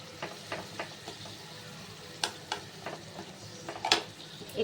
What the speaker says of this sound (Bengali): নাড়িয়ে নিই